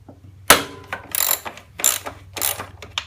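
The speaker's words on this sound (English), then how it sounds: "We are going to loosen this nut so that we can allow the tank to pivot." Ratchet wrench clicking as it loosens the fuel tank bolt nut on a Yamaha FJR 1300 motorcycle, several bursts of rapid close ratcheting separated by short pauses.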